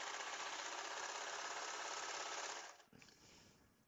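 A Baby Lock Victory overlock sewing machine runs continuously at high speed while overlocking fabric, giving a dense steady whir, then slows and stops near the end.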